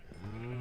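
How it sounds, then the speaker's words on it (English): A Minecraft cow gives a short low moo, close by and clear, rising then holding steady for under a second. "So we'll go ahead and feed some of these cows."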